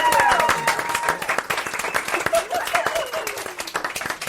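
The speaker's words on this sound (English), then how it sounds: "Give him a round of applause." A pub audience claps for a guest at a live podcast recording, loud and close applause with distinct individual claps that thins slightly over a few seconds, with some voices mixed in.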